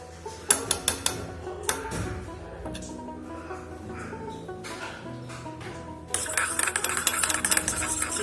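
A soybean and chili sauce mixture being whisked in a bowl: sharp clinks and taps of utensil on bowl, then a quick, busy, rhythmic clatter of whisking near the end, with a little talk.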